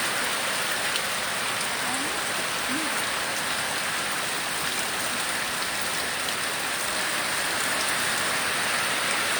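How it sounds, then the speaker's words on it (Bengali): Heavy rain drums on a village tin roof, a dense, steady, loud hiss of drops that runs unbroken throughout. "আমাদের টিনের চালের রিমঝিম বৃষ্টি।"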